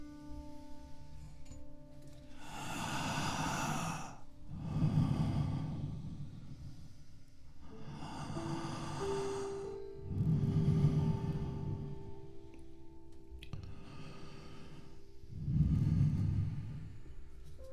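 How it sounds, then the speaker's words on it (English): A church congregation takes slow, deep breaths together: about three rounds of soft, broad inhales and exhales, each swelling and fading over a few seconds, quiet and close with no talking. "I invite you to take 3 deep breaths"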